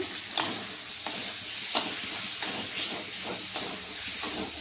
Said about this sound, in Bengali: সব মশলাগুলোকে আমি একটু ভালো করেই কষাবো